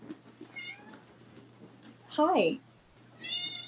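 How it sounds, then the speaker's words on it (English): Cats meowing indoors during a live shopping stream, with a couple of high, drawn-out meows rising clearly over someone talking, one loud close meow standing out, against a steady low hum. "It's invasion of the kitties."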